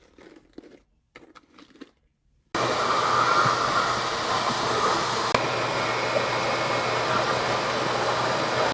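Rev-Air hair dryer drying straight natural hair, a loud steady whoosh of blowing air that starts abruptly after a few seconds of quiet, brief talk and continues unbroken to the end.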